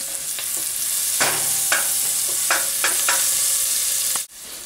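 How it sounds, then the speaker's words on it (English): Diced onion sautéed and stirred in a pot for squash soup with dill, giving a steady frying sizzle with several scraping stirs of a utensil, close and alone before a brief dropout near the end. "The onion that you diced earlier into the pot, and you mix it"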